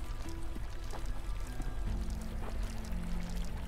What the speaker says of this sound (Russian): А, вода.